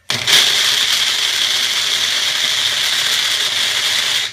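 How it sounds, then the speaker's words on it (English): A blender grinds jelly beans into powder, a loud, steady, harsh rattling roar that starts abruptly and runs for about four seconds before cutting off. "I'm going to break the shit out of my blender"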